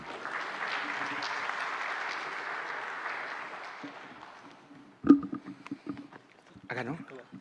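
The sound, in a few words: audience applause at a conference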